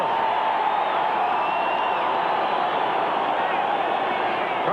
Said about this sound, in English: Carlos gets an appreciative ovation from the partisan crowd here at Mile High Stadium.